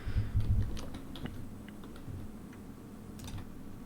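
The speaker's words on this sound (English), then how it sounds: "I hear the ferocious typing." Fast typing on a computer keyboard clicks in quick irregular bursts, faint and a little distant, with a low rumbling thud near the start.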